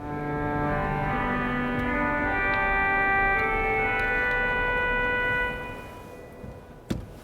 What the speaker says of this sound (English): this is the sound of it's called a cor anglais